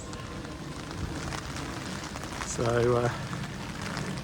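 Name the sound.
rain falling in a garden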